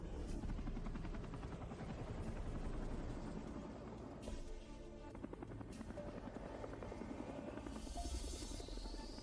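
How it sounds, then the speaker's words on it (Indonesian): A rescue helicopter approaches with a constant loud rotor and engine roar that fills the scene, broken by a few brief higher electronic tones. "Pak Li, helikopter penyelamat akan segera tiba."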